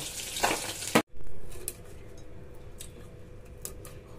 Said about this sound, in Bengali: আমি এগুলো ভেজে নিই